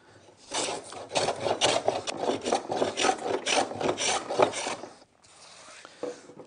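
A hand plane shaving the surface of a wooden chopping board, with about a dozen rhythmic rasping strokes in quick succession, close and fairly loud, then a pause and a single fainter stroke.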